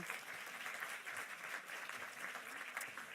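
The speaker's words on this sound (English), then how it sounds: "everybody can give you the applause you deserve" A conference audience at a civil society and think tank forum applauds the authors of a mapping study, a steady, fairly faint patter of many hands heard alone.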